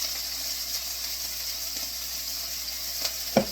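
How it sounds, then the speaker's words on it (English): Meatballs fry in a pan of oil with a steady, close sizzle and a few faint clicks and scrapes of handling near the end. "because you're essentially just like frying the outside."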